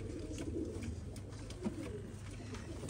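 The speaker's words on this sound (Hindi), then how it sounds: "बहुत प्यारा कबूतर है" A pigeon gives soft, low cooing calls, faint and close, with a few brief rustles and no clear talk.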